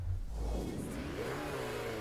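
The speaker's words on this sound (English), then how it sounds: "I'm driving the Ford Focus" A Ford Focus drives in Forza Horizon 4, its engine revving in a short, steady mid-pitched whir that rises and falls slightly.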